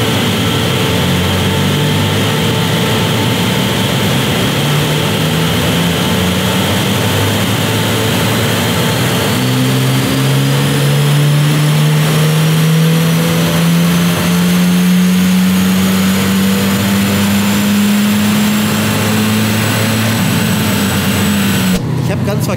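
Hyundai i20 N engine revving steadily on a dynamometer during a stock power measurement, loud and close, its tone climbing gradually over a long sustained pull with constant drivetrain and roller noise beneath.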